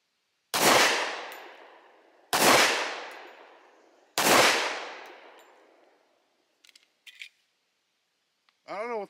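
Three loud, close gunshots from a Rock Island 10mm double-stack 1911 pistol ring out about two seconds apart, each with a long decaying echo, followed by faint clicks and handling sounds and a brief voice at the end.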